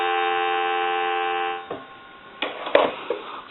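A steady dial tone on a converted Kellogg crank wooden wall telephone hums for about a second and a half, then cuts off, followed by a few clicks and handling noises.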